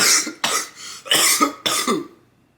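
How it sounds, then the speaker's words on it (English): Four short coughs in quick succession, close and fairly loud, each a sharp burst trailing off into silence. "then there's a cough"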